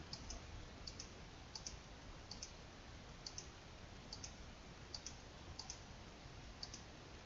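Buttons pressed on a Siemens HMI panel give a run of soft, evenly spaced clicks, roughly one every second, faint over a steady background hiss.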